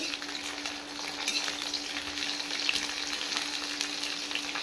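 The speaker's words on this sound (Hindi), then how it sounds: "मतलब तेल डाल के इसको कर रही हूँ फ्राई" Pieces of jackfruit frying in oil for a sabzi, a soft continuous crackling sizzle with small popping spikes, fairly quiet and close, no voices.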